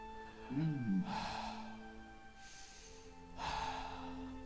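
A human voice imitates slow, heavy breathing in a dungeon setting, with three soft, close breaths spaced evenly and a brief snort-like gasp near the start.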